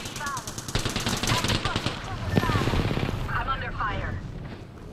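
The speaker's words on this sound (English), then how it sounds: "I'm under fire." Automatic gunfire in the shooter game Apex Legends, loud rapid bursts of shots with a brief pause and another burst, while a player's voice talks over it.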